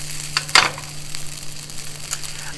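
Fried rice toasting in a pan without a spatula, a soft continuous sizzle with a couple of brief louder crackles and scrapes, close by and fairly quiet.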